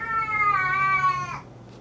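A single drawn-out cat meow, close and fairly loud, holding a steady wavering tone for over a second before cutting off into quiet.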